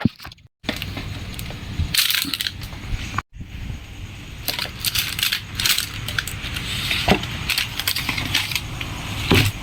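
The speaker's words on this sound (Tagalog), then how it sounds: "Natin itong barya para bukas. Ilagay natin dito sa ating timba." Coins dropped into a bucket make a steady, close metallic clatter and jingle, with brief pauses between handfuls.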